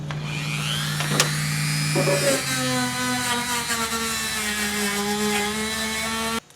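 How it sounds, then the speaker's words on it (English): A small grinding or brushing wheel on a Dremel rotary tool abrades raw metal on a 2004 Tahoe, a steady high-pitched whine with shifting harmonics that runs close and loud without pause, then cuts off at the end. "Got a small wheel, little grinding wheel, furry wheel, brushy wheel, whatever you want to call it, on my Dremel."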